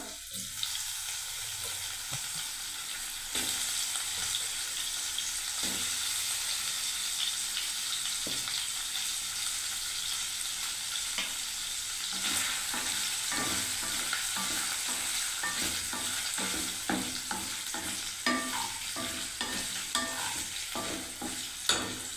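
Paneer cubes fry in a pan over a low flame, with a steady, close sizzle running throughout and repeated scraping stirs breaking through it, and no voices.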